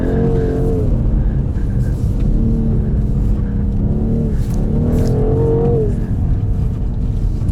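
530 HP BMW M850i xDrive coupé accelerating hard, heard from inside the cabin: a loud, continuous engine roar rising in pitch through repeated sweeps as it pulls through the gears.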